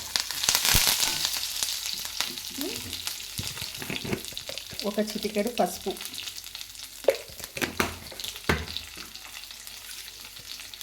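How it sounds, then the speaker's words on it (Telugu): Mustard seeds and curry leaves sizzle and crackle in hot oil as a tempering, with occasional stirring clinks, while a person speaks briefly over the frying. "ఇది మంచిగా వేగాలన్నమాట పోపు అయితే వేగింది"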